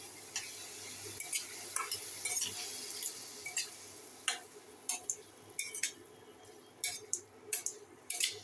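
Masala being stirred in a frying pan, with a spoon scraping and tapping the pan in irregular bursts over a faint sizzle, close and fairly quiet, no voices.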